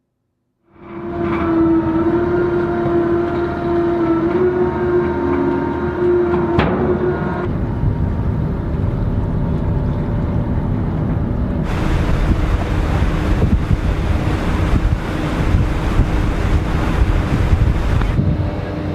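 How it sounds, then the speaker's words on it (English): On the ferry Arnie J. Richter crossing Death's Door, Wisconsin, a continuous engine drone and hum with steady wind and water rush, growing louder and noisier with stronger wind gusts partway through. "I'm on the ferry to Washington Island, the Arnie J. Richter."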